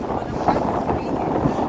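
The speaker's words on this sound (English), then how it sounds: "It's really windy and it's kind of cool." Steady wind buffets the microphone with a low, rumbling roar throughout, with faint voices underneath, on a beach at Haldimand, Gaspé.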